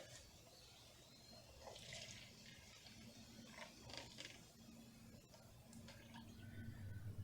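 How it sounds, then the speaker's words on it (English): Dylon fabric dye liquid being poured into a cup, a soft, continuous trickle and splash of liquid over a steady low background hum, with a few brief clinks along the way. "So I'm going to pour half of this into a cup."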